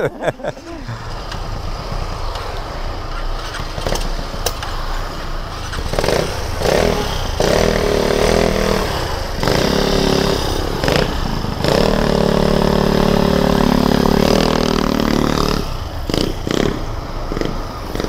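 Motorcycle engine running while riding on a road in Lipa, Batangas, a steady droning hum with rising and falling revs and wind, heard under intermittent conversation between rider and passenger.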